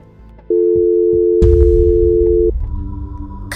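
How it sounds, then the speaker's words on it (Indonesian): A phone-call tone in the Sakura School Simulator game sounds as a single steady electronic beep lasting about two seconds, loud and clean, overlapping a burst of noisy clatter and followed by quieter background sound. "Gue telepon Bang Arya aja deh."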